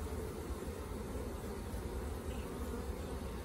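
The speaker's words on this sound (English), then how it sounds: "Lots of bees here." Dense, steady buzzing of many honey bees swarming over an open frame of a nucleus colony during installation, a continuous close drone with no pauses.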